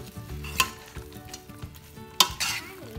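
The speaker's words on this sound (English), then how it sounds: "The cauliflowers to the sauce and we're going to be mixing them." Battered cauliflower for gobi manchurian gets tossed into a sauce in a pan, with soft stirring and faint sizzling broken by two sharp clinks of a utensil against the pan.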